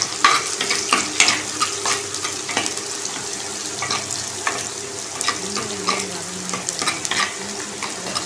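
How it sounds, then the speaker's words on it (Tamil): Tomatoes sautéing with curry leaves in a pan for a sankara fish kulambu, giving a steady moderate sizzle with scraping stir strokes, close and continuous, with no voices. "தக்காளி போட்டு அதை மிக்ஸ் பண்ணிவிட்டு கொஞ்சம் வதங்கி"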